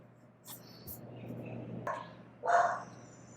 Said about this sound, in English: There's a wayward dog owner who just basically sticks their dog out on the veranda all day.